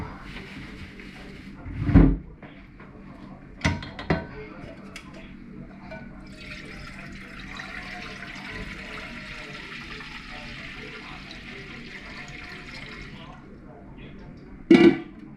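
Water running in a kitchen while rice is washed, a soft steady flow with a few sharp knocks and clatters near the start and end.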